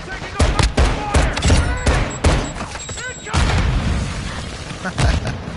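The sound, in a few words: incoming gunfire in a video game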